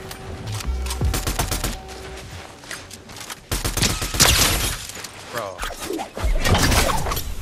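Rapid gunfire in a ranked Unreal match, with dense bursts of automatic shots, sharp cracks and thuds, loud and continuous across the whole stretch, under occasional voices talking.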